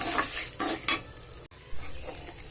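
Black urad dal, dried chillies and tamarind sautéed in a pan for a black urad dal chutney, giving a steady sizzle with several scraping stirs of the spoon close up, a brief pause, then more stirring.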